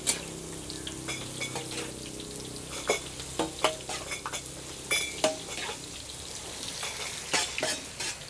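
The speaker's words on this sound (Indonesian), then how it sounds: "Sehari goreng terus ini." Eggs frying in a pan at a street food stall, a steady sizzle broken by frequent sharp scrapes and clinks of a spatula against the pan, close and busy, with no talking.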